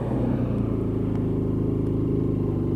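A WK Scrambler 125cc motorcycle is being ridden, its small engine putting out a steady, close, pulsing rumble with an even tone and no speech over it.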